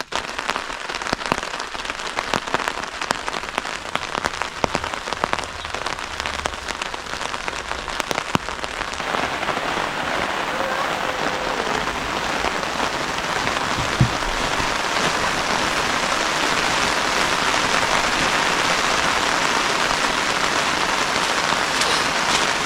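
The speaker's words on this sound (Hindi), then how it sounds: "बारिश नहीं रुक रही" Steady rain falls on a campsite in New Zealand, a dense, even hiss of drops with a few sharper taps early on and no voices.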